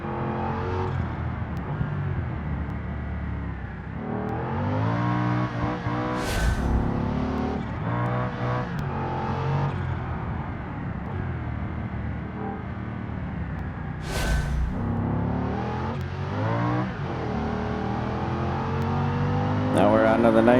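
ETK car racing in BeamNG, its engine revving hard and climbing through gears in repeated rising sweeps, with brief shifts and a steady loud drone throughout, someone talking over it.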